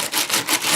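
A Big Shot die brush scrubbing back and forth over a metal cutting die to clear out paper pieces, a loud close rasping rub in three or four quick strokes.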